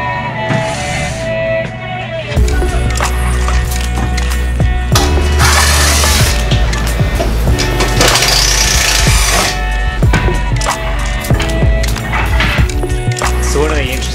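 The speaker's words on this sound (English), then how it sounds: "I've got to cut it, grind it, weld it, and then do the same with wood." A metal and wood couch frame for a school bus is cut and ground with power tools, a loud, continuous, harsh whine and rasp rising and falling in bursts at close range.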